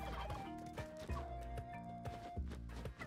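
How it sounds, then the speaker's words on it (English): Turkeys in the video game Spelunky gobble in repeated rapid warbling calls, layered over busy game music and thudding effects. "let us free the turkeys"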